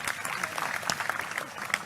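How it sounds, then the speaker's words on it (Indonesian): Short burst of audience clapping for the first group at a Sinau Bareng gathering in Kediri for Indonesia's 77th Independence Day, with voices mixed in over the claps. "Tepuk tangan untuk kelompok pertama."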